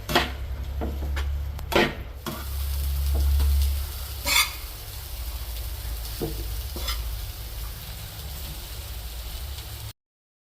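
Egg rice being stir-fried in a hot pan, a steady sizzle with repeated scraping stirs of a spoon, a few sharp clatters early on, loud and close with no speech.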